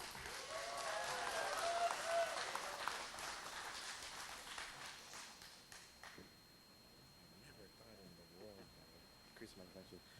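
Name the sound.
applause welcoming an honoree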